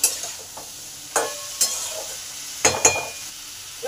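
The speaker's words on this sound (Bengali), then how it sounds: "নুনটাও ভালো করে মিশিয়ে নিলাম আলু ডাঁটা পেঁয়াজের মধ্যে।" Potatoes, stems and onions being mixed with salt in a frying pan: a low sizzle broken by several sharp scraping stirs in uneven bursts, close by, with no talk.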